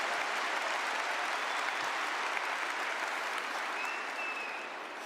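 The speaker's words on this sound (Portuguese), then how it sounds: "Dá uma salva de palmas para a palavra do Senhor" Sustained loud applause from a church congregation after a Catholic preacher's scripture reading, dense steady clapping filling the whole stretch and tapering slightly at the end.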